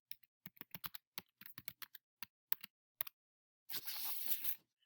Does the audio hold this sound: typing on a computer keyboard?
yes